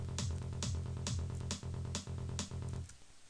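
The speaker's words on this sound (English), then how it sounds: "Some tracks sounds like this short kick." Short psytrance kick drum in a track, punchy thumps repeating at a steady driving pace with other sounds layered on top, loud and clear, ending abruptly.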